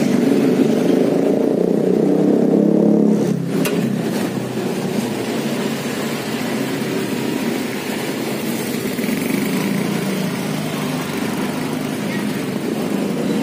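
A 2014 Daihatsu Xenia 1.0 D, second generation, runs with a steady low engine hum throughout, with someone talking over it.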